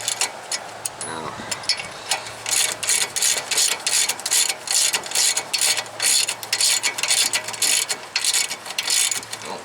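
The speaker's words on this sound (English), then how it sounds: "So grab the ratchet." Ratchet clicking rapidly in bursts while working on a Chevrolet Trailblazer front ball joint, close and loud, with a brief voice early on.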